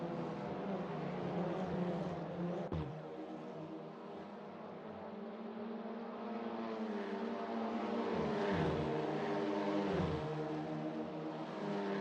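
Race cars in the SimSpeed Fun Cup sim racing game roar off at the start, a dense pack of engines rising and shifting in pitch, with a sharp click early on and swelling revs later, no voices.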